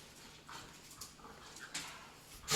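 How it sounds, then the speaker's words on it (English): Dogs bark and whimper faintly in the background amid a soft, noisy room, several brief yelps scattered across a couple of seconds rather than one clear bark. "Dogs."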